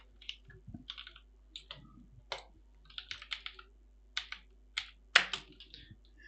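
Typing on a computer keyboard, a close run of irregular clicking keystrokes in short bursts with pauses, no talk.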